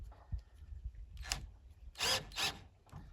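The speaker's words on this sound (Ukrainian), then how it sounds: "з горем пополам я позакручував ці саморізи" A power screwdriver drives self-tapping screws during a workshop repair, with short whirring bursts and the loudest two back-to-back runs near the end, close by and with no speech.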